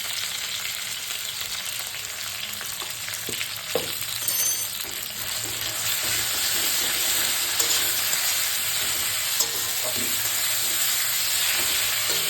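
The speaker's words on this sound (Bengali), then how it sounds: "কালো জিরে ফোড়ন দিয়ে আলুটাকে একটু ভেজে নিলাম। এবার একটু কাঁচা লঙ্কা পেস্ট দিয়ে দিচ্ছি।" Potatoes frying with nigella seeds and green chilli paste in a pan, a steady close sizzle with occasional stirring clicks and scrapes that continues throughout without any voices.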